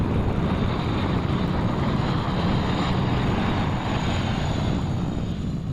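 A firefighting aircraft flies overhead, producing a loud, continuous broadband engine roar that holds steady throughout with no gaps.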